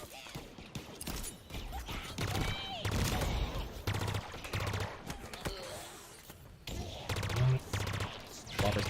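Rapid bursts of game gunfire from Halo Infinite crackle in uneven clusters, some sustained like automatic fire, mixed with other game effects and partly under a speaking voice.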